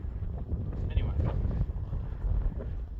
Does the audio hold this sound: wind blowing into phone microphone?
yes